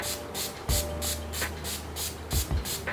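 A rapid series of short, airy spritzes from a NYX makeup setting spray bottle, about a dozen pumps in a steady rhythm, close by.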